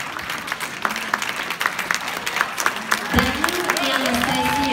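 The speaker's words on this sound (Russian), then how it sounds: "Это невероятно приятные аплодисменты." Audience applause in a club setting, a dense patter of many hands clapping at moderate distance, with a host's voice and music-like tones rising over it in the final seconds.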